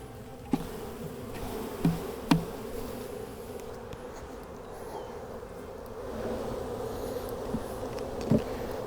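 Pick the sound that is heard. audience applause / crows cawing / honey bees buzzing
honey bees buzzing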